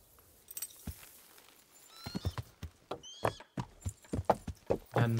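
A horse whinnies and snorts, then its hooves clip-clop in an even, fairly close rhythm while riding in Kingdom Come: Deliverance, with no talking over it.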